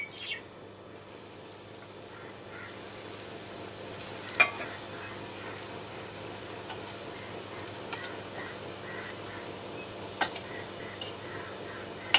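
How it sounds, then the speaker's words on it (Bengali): Bread rolls for Shahi bread roll deep-frying in hot oil give a soft, steady sizzle with scattered small crackles and ticks, faint and continuous with no voices. "ব্রেড রোলগুলো খুব ভালোভাবে ভেজে নেওয়া হয়ে গেছে আবার শুনে বুঝতেই পারছে কতটা মুচমুচে হয়েছে"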